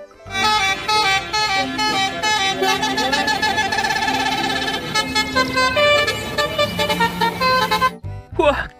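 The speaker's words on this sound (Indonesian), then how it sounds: "Wih, ada bus telolet lagi teman-teman." A toy telolet bus horn plays a bright, loud melodic tooting tune of several sustained musical notes, continuing almost without break before stopping, then a brief burst of tones follows.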